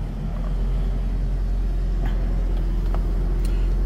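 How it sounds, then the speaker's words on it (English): A high-mileage car with about 328,000 miles and a lit check engine light idles steadily after starting, a constant low engine rumble heard up close and alone. "Let's turn on the engine."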